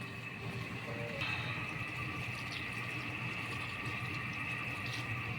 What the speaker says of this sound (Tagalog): Mag-a-add na lang tayo ng tubig.